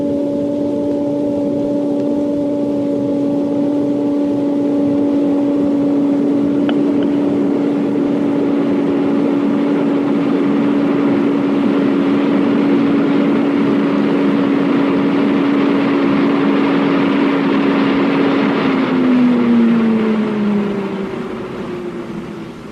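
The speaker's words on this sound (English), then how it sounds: "I'm going to increase the airspeed steadily up to about 150 miles per hour" Airflow in a wind tunnel rising steadily toward about 150 mph, a loud continuous roar with a steady whining tone that holds level, then slides lower and tapers off near the end.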